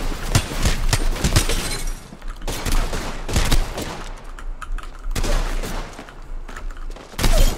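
Rapid bursts of gunfire in a shooter video game ring out in dense volleys, loud and close, with sharp shots clustered at the start and returning near the end.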